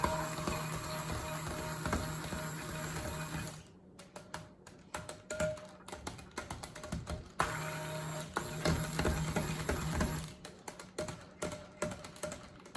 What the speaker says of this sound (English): I will give this a slight blend